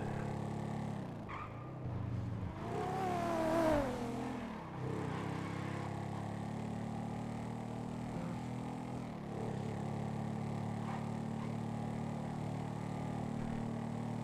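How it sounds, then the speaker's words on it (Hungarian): A fast motorbike engine in the video game GTA, in roleplay mode, revving up in a rising, whining sweep and then settling into a steady, continuous drone. "Olyan gyors ez a motor, még mindig zseniális."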